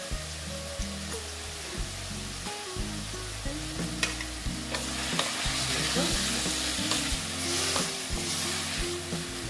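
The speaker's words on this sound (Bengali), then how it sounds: "এবার আমি এই দেখো দিয়ে আমি একটু নেড়ে চেড়ে নেব।" Shredded cabbage sizzles and fries in a pan as it is stirred, with a steady loud hiss and a run of scraping, clattering strokes from the spoon against the pan, close up and with no talking.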